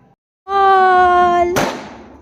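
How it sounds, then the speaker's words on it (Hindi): A firecracker set off during Dhanteras celebrations gives a steady whistling shriek for about a second, then a single sharp, loud burst close by that fades quickly. "पहली बार पटाखा सुन रही है"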